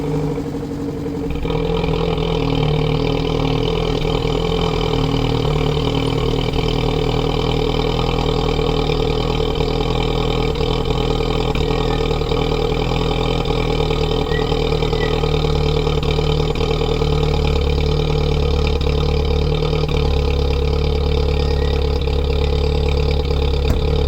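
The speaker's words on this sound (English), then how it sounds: "I might as well give you guys a quick cold start as well." A VW Golf MK6 with the 1.4 TSI engine fires up from cold after a second of quiet, then settles into a loud, steady, humming idle that runs on unbroken, close to the car.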